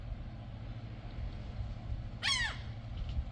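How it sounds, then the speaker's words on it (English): Bird call at a backyard saltwater pond in Key Largo, Florida, with a single short harsh squawk burst that rises out of steady low background noise, fairly close, with no talking. "There we get some birds showing up."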